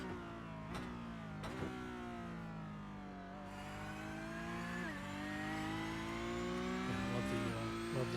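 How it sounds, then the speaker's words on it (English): A race car engine in the iRacing video game howls through the gears at Circuit de Barcelona-Catalunya, pitch climbing and then dropping sharply at each shift, steady and fairly close with no talk. "You can actually hear the shifts of his car."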